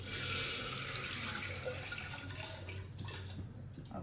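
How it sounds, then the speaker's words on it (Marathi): Rice for khichdi rinsed under a running kitchen tap, a steady close splashing water flow with small swishing changes as the grains are washed. "आणि ह्याला आता मी वॉश करून घेणार"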